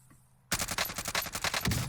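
Krig 6 assault rifle firing in Call of Duty Warzone, starting abruptly after a brief quiet and continuing as a rapid automatic burst of sharp, loud, close shots at a steady fast rhythm.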